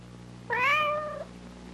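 A cat in a flea collar TV commercial lets out one clear, close, rising-and-falling meow lasting under a second, over a quiet background hum.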